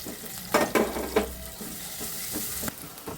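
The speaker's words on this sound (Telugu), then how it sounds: "ఇప్పుడు ఆయిల్ పోసుకుందాం. ఇప్పుడు ఉల్లిపాయలు వేసుకుందాం." Onions sizzling as they go into hot oil in a pan for a raw prawn and drumstick curry, with a few sharp spatters and stirring scrapes over a steady, moderately close crackle.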